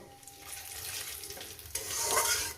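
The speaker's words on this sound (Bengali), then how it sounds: "দুটো তেজপাতা একটু জিরে গুঁড়ো দিয়ে দিলাম কয়েক সেকেন্ড ভেজে নেব" Two bay leaves and cumin powder frying in a pan, a soft, steady sizzle that swells louder partway through, close by with no talk.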